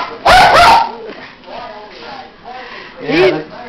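A dog barks and yips at a banana held out to it, a loud burst of sharp barks followed by softer whines and another bark, with a person talking around the sounds.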